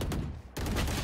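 Video game gunfire comes as a rapid burst of shots, then a short gap, then another dense volley, loud and close.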